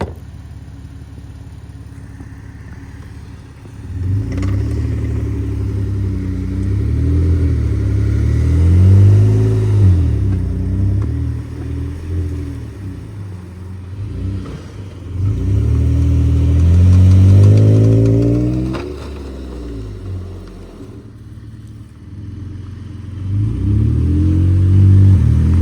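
A Jeep engine revs hard in repeated surges while recovering a framed-out Nissan Frontier off-road, rising and falling with a deep, loud growl and idling between the pulls.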